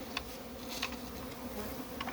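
Honeybees buzz inside a four-frame beehive being prepared for winter, a faint steady hum with brief closer buzzes of individual bees passing by.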